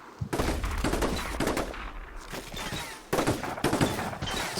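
Gunfire from the Combat Mission Shock Force 2 wargame during an assault on a guardhouse and factory: sustained volleys of rifle and machine gun shots crackle continuously, with brief pauses between dense bursts.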